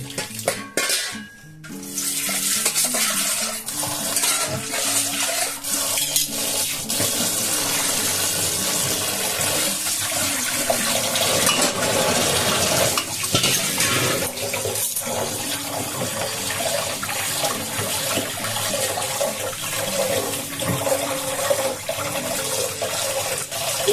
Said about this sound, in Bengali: এবার জল দিয়ে আমি এটাকে খুব ভালো করে ধুয়ে নেব